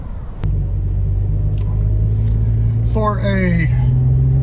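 A 9-year-old Toyota FJ Cruiser with 66,000 miles runs at a steady idle, its deep, even rumble starting abruptly and holding close and loud while a person talks over it.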